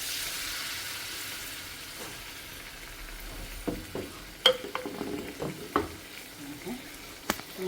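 Potato matar rolls dropped into hot oil, a soft steady sizzle at first, then sharper crackling pops and bursts of frying as more pieces go in, close and moderately loud.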